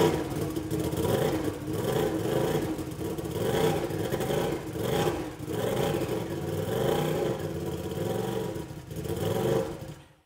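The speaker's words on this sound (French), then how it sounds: "je vous démarre l'engin" An Aston Martin Brough Superior turbo motorcycle, a track-only machine, starts and revs repeatedly up close, its engine rising and falling in throaty surges over a steady idle for about ten seconds.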